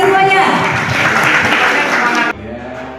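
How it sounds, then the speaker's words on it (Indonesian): Indoor gathering of farmers and fertilizer kiosk participants at an agricultural outreach event bursting into loud, dense clapping that fills the room for about two seconds before cutting off abruptly. "Oke, tepuk tangannya di atas semuanya."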